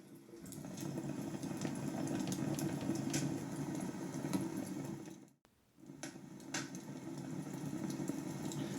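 White noise from a Sound+Sleep bedside sleep sound machine, a steady rushing hiss like running water that cuts out briefly midway and then resumes, heard alone and at low level.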